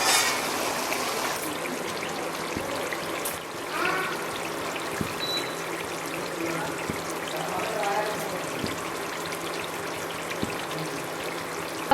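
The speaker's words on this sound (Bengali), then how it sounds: "মশলায় তেল ছেড়ে দিয়েছে এখন জল দিয়ে দেবো" Water poured into a pan of fried mustard and poppy seed spices with oil, a steady close trickling stream that runs the whole stretch, with faint clinks and a brief voice.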